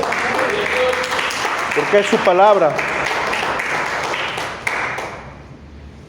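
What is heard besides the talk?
church congregation applauding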